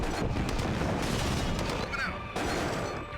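Gunfire and explosions in the video game Command & Conquer: Tiberian Sun, a dense, continuous rumble of shots and booms that stays loud throughout without pause.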